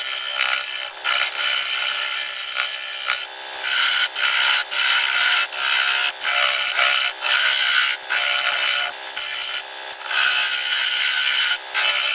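A wood turning tool flattens the bottom of an apple wood bowl on a lathe, a steady bright scraping hiss broken by short regular pauses as the tool lifts off, close and loud with no talking.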